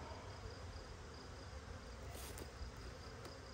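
Honey bees from a newly delivered package fill the air with a dense, steady buzzing hum as they emerge into a new hive, a continuous swarm drone with no voices.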